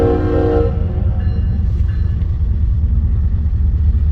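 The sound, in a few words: eastbound freight train passing after BNSF crossing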